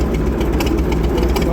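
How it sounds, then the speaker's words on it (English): Low rumbling engine of a McCormick Deering 10-20 tractor running steadily close by while it drives around a property, with people talking over the continuous drone. "it's a good running and driving tractor"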